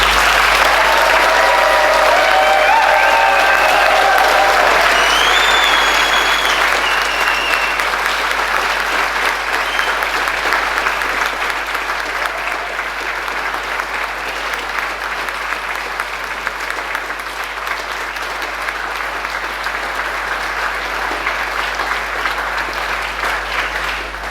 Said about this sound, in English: So can you all give the biggest round of applause to the one and the only Mr.